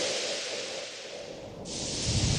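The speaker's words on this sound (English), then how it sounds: "So this instrument seems more like a percussive ambient, not percussive really, but a lot of hissing." Continuous airy hiss from a Pocket SCÍON plant music device, a steady noisy wash that brightens and swells near the end, with no voices.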